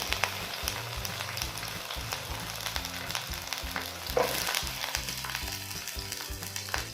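Onion frying in oil in a pan for a Kannada-style fish curry, a steady close sizzle with soft stirring scrapes and a brief louder crackle midway.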